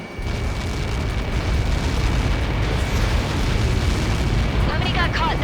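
Missile impact explosion in the video game Ace Combat 7, a heavy sustained rumbling blast that fills the whole clip at high level, with faint voice chatter near the end.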